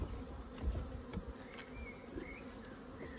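A honeybee colony with a queen buzzes steadily during a hive inspection, a faint, dense drone with individual bees passing close now and then. No one speaks.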